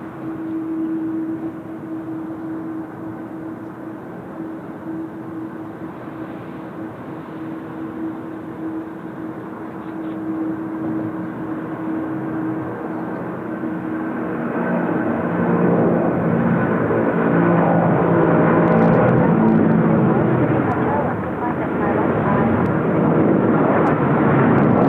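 A jet airliner passes at Seoul Incheon Airport, its engine roar starting as a steady distant whine and swelling louder and broader over the second half, with no talk over it.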